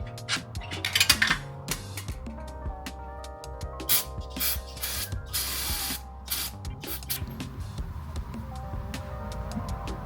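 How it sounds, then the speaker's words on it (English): Exhaust downpipe bolts on an NA Miata are driven with an impact wrench. Close, clattering mechanical bursts and hammering rattles come in uneven spurts across the stretch, with no voices. "So now I just need to put these two more bolts back on and impact the hell out of them."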